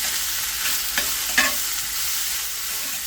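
Food frying in a pan with a constant close hiss and sizzle, broken by a couple of brief scraping stirs.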